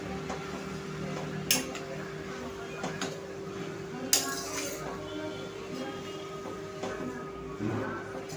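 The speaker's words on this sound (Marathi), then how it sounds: "तुपावरती छानपैकी हा दुधी भोपळा आपल्याला भाजून घ्यायचा आहे व्यवस्थित" Grated bottle gourd stirred while roasting in ghee for lauki halwa: a spoon gives occasional sharp clinks and scrapes against the pan over a quiet background with a steady low hum.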